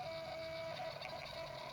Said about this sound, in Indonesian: printer juga akan langsung mencetak seperti ini